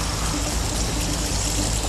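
Water streams steadily over a large fish held in the water, a continuous close rushing wash with no talk.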